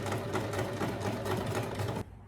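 A sewing machine stitching a fabric casing for elastic, running in a fast continuous mechanical whir close up for about two seconds before stopping abruptly, with no talk.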